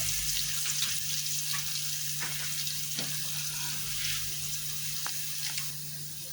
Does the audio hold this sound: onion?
yes